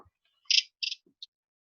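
Short bird calls recorded in the LPO refuge of the Jardin public de Loches: two bright, buzzy high-pitched bursts in quick succession, then a brief thin peep, close and clear against silence.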